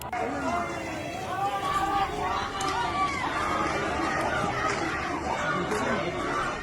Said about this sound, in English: protesters have been chanting death to the supreme leader